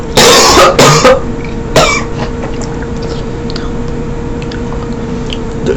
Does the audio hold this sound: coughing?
yes